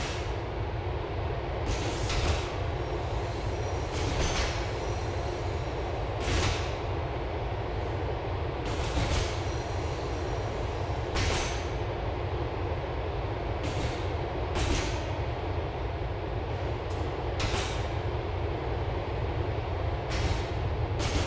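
A Liberty City subway train from GTA IV rolls along steadily with a constant loud rumble of wheels on rails, broken by repeated sharp clattering bursts and brief high squeals.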